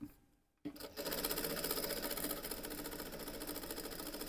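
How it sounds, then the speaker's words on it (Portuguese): A sewing machine stitches synthetic leather for a mini backpack, running as a steady, close, continuous mechanical whir after a brief quiet start, with no talking. "Aí eu vou costurando aqui, puxando sempre de baixo."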